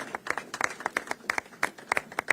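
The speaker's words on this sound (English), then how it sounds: "So please, round of applause for these guys." A small group claps for MassDOT District 6 staff at an outdoor Shared Streets announcement, giving sparse, uneven individual claps rather than a dense roar, fairly close and brief.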